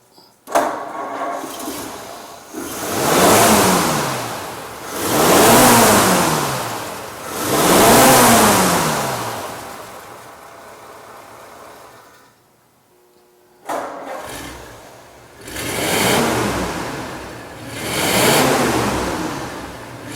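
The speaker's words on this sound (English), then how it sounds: "Doesn't that Flathead sound nice? I like the sound of the starters too." A restored 1948 Ford sedan's Flathead V8 cranks on the starter and fires, then revs in repeated slow swells that rise and fall, pauses briefly, and is restarted and revved again, loud and close.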